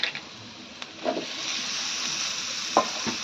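Chopped tomato is stirred into onions frying in a pan, with a steady sizzle and a few scraping strokes from the spoon, close and fairly quiet.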